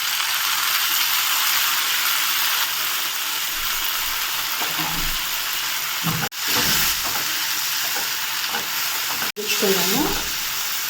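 Onion and tomato frying in oil in a pan for Karnataka-style bisibele bath, a loud, continuous close sizzle with a few tossing and stirring movements and a faint voice near the end.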